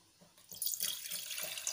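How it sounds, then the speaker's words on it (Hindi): Soaking water drained off ingredients soaked for two hours while making ice cream without milk, cream or any cream product, heard as a steady close running-water splash after a brief quiet start. No one talks. "हम इनका ये पानी निकाल देते हैं"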